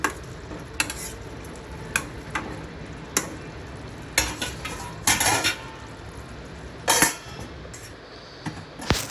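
Potato and ridge gourd are stirred in a pan with a metal spoon, irregular close scrapes and clinks over a soft sizzle, ending with the clatter of a lid going on.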